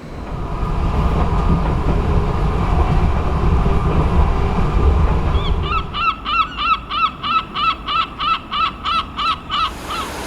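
A passenger train on the Worcester to Stourbridge line, approaching Worcester Foregate Street, rumbles loudly along the rails, then gives way to a rapid, regular clacking rhythm of wheels over track joints.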